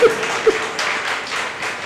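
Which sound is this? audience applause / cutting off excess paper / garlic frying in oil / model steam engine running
audience applause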